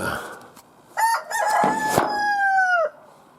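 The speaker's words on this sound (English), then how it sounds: "let's let these chickens out" A rooster crows loudly and close, a long drawn-out call, preceded by a few short clucks and scratchy noises.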